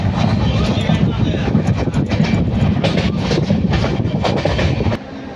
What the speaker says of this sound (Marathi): बँड्रा मडगाव ही ट्रेन आता वसई स्टेशनला आली आहे